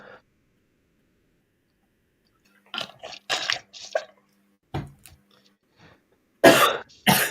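Several sharp coughs and throat-clearing bursts, close and fairly loud, separated by short pauses, with a final pair of harsh, heavy coughs.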